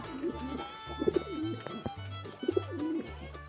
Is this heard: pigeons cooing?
yes